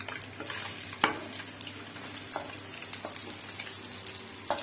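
Onions hit hot oil in a pan while a kofta curry is being cooked, giving a steady sizzle with a few sharp scrapes and taps of a spoon against the pot.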